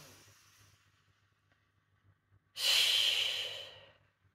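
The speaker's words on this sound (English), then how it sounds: "Breathe in and out." A slow breath in and out during an EFT tapping session, a faint airy intake followed after a pause by a loud, close, hissing exhale that tapers off gradually.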